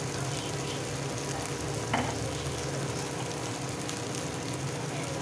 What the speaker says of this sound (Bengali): ভালো করে একটু মিলিয়ে নিচ্ছি, মিলিয়ে একটু কষিয়ে নিচ্ছি।